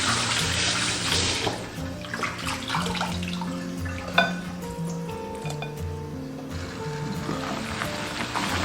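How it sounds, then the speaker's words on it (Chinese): Blanched duck meat rinsed under running water, a steady rushing tap flow with clinks and splashes as the pieces are handled, close and fairly loud, with a single sharper knock partway through. "捞起来给它清洗干净。"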